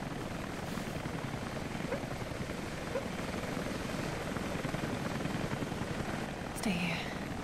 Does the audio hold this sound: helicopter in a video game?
yes